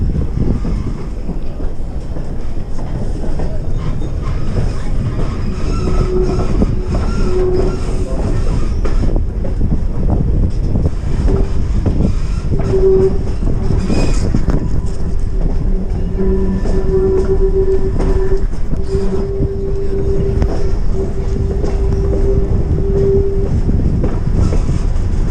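A narrow gauge train pulling four cars runs along the main line at Felton Junction, with a steady loud rumble and wheel noise, wind buffeting the microphone, and a few high squeals and tones rising over the clatter.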